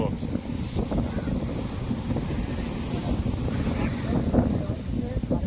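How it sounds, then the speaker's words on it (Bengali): A steady, broad roar of surf rolls on throughout at Digha beach, mixed with gusty wind buffeting the microphone, while people talk over it. "আর ঢেউয়ের আওয়াজ পাচ্ছ তোমরা, সেই ঢেউ, মানে আওয়াজ বিরাট"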